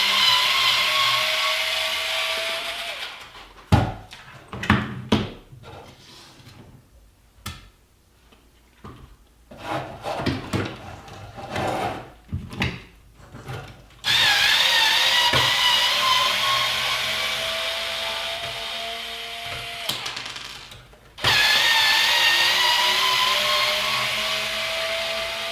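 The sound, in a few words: power tool removing screws from Traxxas XL5 bumper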